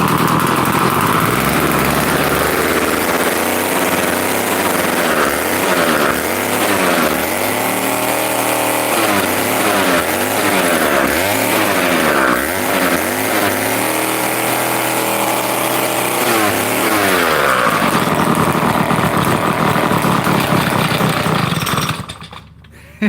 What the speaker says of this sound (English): I need to adjust the idle, I guess, a bit more.